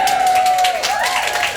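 A brief burst of applause and cheering from an audience at a queer poetry reading, loud and close, with a tonal whistle-like sound running through it.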